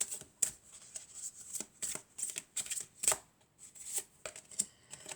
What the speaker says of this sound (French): Non, on va mélanger encore.